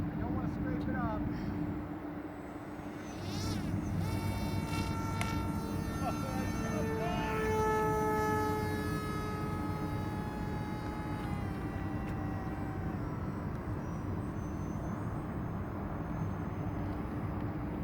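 The electric motor of a Tower Hobbies ST Model Arcus M RC glider whines through its takeoff run on the runway on its maiden flight, with tones rising and shifting over a steady broadband hum as the pitch climbs.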